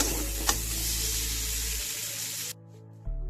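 Water poured into a hot pan of Bengali-style shing fish curry with potato sets off a loud, broad hissing sizzle that runs steadily for about two and a half seconds, then cuts off abruptly, leaving a low background hum.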